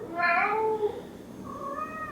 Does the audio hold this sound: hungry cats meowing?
yes